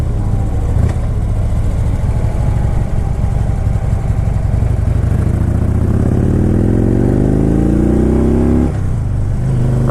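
A Harley-Davidson 103 V-twin motorcycle engine accelerates hard while riding, a loud, steady low rumble whose pitch climbs smoothly through a gear before a brief drop at a shift, with no talking.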